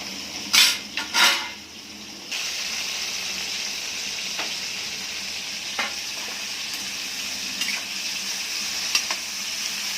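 Chili thecha and ground masala being sautéed in a pan, with a couple of loud stirring scrapes near the start and then a steady sizzle and frying hiss marked by occasional small clinks of the spoon.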